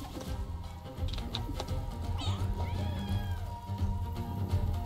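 Cats meow repeatedly in Bang-On-Balls: Chronicles near a cat house, several rising and falling meows over busy game music and effects, fairly loud and close.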